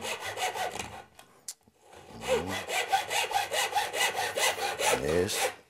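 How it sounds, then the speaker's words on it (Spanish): A handsaw cuts through a piece of cane for a traditional musical instrument, with rhythmic back-and-forth rasping strokes, a short pause, then a steady run of close, fairly quiet strokes. "A la vez que voy cortando, le voy dando vuelta a la caña para que no se destroce mucho"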